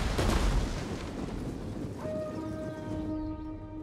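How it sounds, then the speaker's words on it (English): Ballistas firing in Total War: Rome 2 during a battle in Gaul, a deep thudding launch followed by a rumbling, rain-like wash of battlefield noise and a faint lingering tone. "Looks like my ballistas are already firing on something, although I don't know what."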